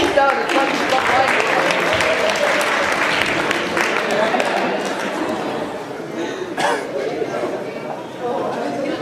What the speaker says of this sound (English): Let's give a round of applause to the brother.